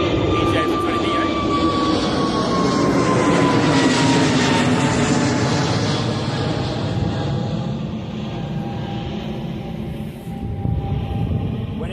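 easyJet Airbus A320neo at Bristol Airport, a loud sustained jet engine roar with a slowly falling whine as it passes, easing off gradually toward the end.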